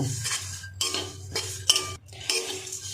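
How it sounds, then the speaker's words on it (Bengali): Oats vegetable khichuri being stirred and fried in a pan on low to medium heat, a spoon scraping and clinking against the metal in several separate strokes, with a soft sizzle underneath. "নেড়ে চেড়ে একটু ভেজে নিতে হবে"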